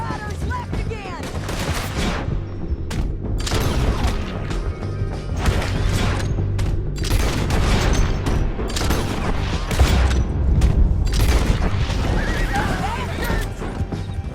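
Gunfire crackles amid galloping horses and whinnying during a mounted canyon shootout in Red Dead Redemption 2, sharp shots scattered over steady hoofbeats, with shouting voices throughout.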